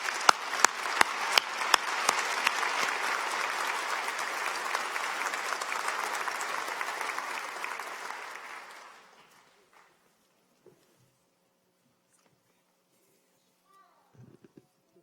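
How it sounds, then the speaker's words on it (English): A commencement audience at a nursing school ceremony gives the dean a long, steady round of applause that fades out after about nine seconds, leaving near silence with a few faint knocks. "I would just like to lead a round of applause for your leadership"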